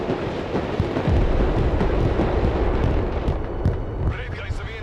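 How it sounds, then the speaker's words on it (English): Chain gun fire in the real-time strategy game Broken Arrow, a dense rumbling barrage of rapid impacts and heavy booms, loud and continuous, with radio-style unit voices speaking over it. "Hit with the chain gun here"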